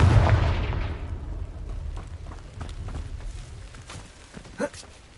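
A Confringo blasting spell goes off in a Hogwarts wizarding video game. It opens with a loud, deep explosive burst that fades into a rumbling tail, followed by quieter footsteps and a small pop.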